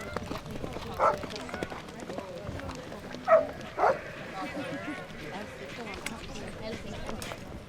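Dogs on a polocrosse field during an Ireland versus Zimbabwe match give a few sharp barks, one early and a close pair in the middle, under ongoing commentary, with faint hoof-like clopping in the background.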